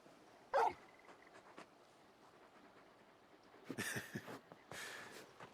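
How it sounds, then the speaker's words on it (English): A big dog in Final Fantasy XVI gives a sharp bark, then a few soft whimpers and yips spread over several seconds, moderately near and with no talk over them. "You're just a big puppy, aren't you?"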